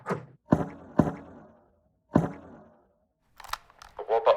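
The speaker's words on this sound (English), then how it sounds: "Here, listen to this gunshot that I made." Homemade gunshot sound effect: a few sharp thumping bangs, each with a short decaying tail, separated by pauses, ending in a brief burst of voice-like noise.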